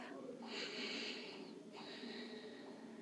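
A slow, deep breath drawn in and let out during a desk yoga session, two long airy swells of inhale and exhale, close and soft.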